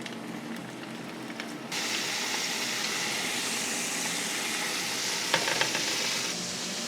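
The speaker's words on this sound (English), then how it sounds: "Yeah, it sizzling, that means it's ready." Pork sizzles steadily in hot oil, a loud continuous crackling hiss with a few sharp pops, beginning after a quieter moment.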